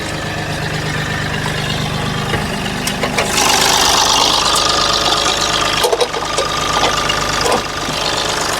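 A 2018 Mahindra Bolero ZLX SUV engine idling just after starting, a loud continuous close rumble that rises briefly as it revs, then settles back to a steady idle.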